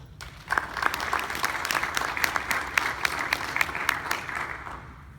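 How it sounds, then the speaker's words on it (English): Audience at a signing event for a basketball and softball player breaking into sustained applause, many hands clapping evenly after a brief quiet start. "Round of applause."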